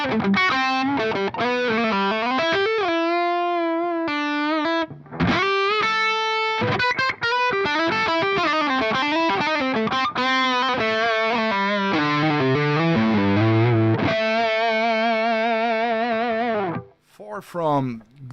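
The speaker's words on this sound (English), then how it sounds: "We're going to go in a passive mode on the guitar here and see how it sounds then." An electric guitar in passive mode plays through an analog amp with a gritty, hard-rock-style distorted tone, sustained chords and bending single notes ringing out, with a few brief pauses between phrases.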